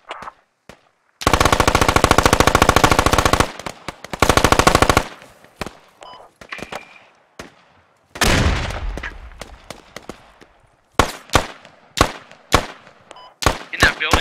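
Automatic rifle fire in the video game Squad rips out in two long, loud sustained bursts, followed by a heavy blast and then a string of sharp single shots near the end, with a voice briefly heard.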